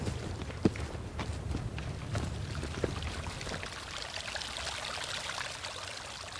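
A small stream of water appears out of nowhere in a little gully of a ravine below Queen's Park Cemetery in Calgary. It flows and trickles steadily at low level, with scattered footstep-like crunches early on and no talk.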